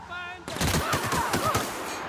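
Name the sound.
gunfire in the video game The Outer Worlds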